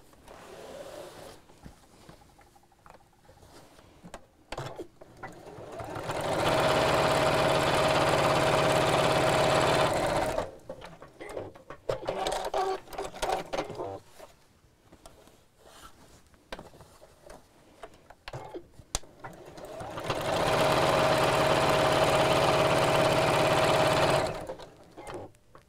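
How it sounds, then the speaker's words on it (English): Sewing machine stitching down the sides of a round bamboo-handle bag: two long, steady runs of fast mechanical whirring and needle clatter, each lasting several seconds, separated by quiet handling and fabric rustle. "And then we'll sew down each side."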